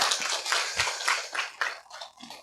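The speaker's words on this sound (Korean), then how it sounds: "박수를 한번 좀 쳐드리고 싶어요." Brief scattered applause from students at Yubong Girls' Middle School during a student forum, a few seconds of light clapping from a small group indoors.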